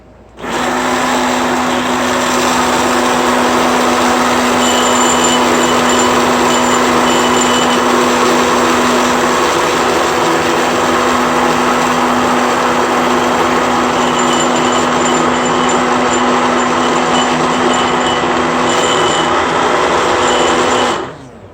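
A kitchen blender motor runs steadily while blending homemade sugar-free mayonnaise, a loud continuous whirring drone that holds unbroken for about twenty seconds, with no talking over it.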